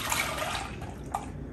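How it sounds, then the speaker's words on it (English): Heavy cream and milk pour into a saucepan with a soft, continuous liquid splashing and trickling, close and quiet. "You're just going to add the heavy cream and milk together"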